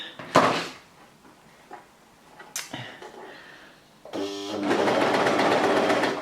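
Coverstitch sewing machine starting up and stitching fabric after a few handling clicks and knocks, its steady fast mechanical whir loud and close, running alone for the last two seconds.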